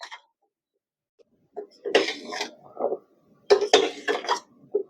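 Thickened jaggery syrup is stirred in a pan with the heat off, giving intermittent scraping and clinking strokes of utensil against metal, close by and separated by brief silences.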